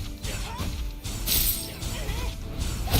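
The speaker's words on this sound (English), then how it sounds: "the sound of their armor shattering" Enemy armor shatters in Snowbreak: Containment Zone, with loud crashing breaks and glassy bursts over busy game effects and some talking.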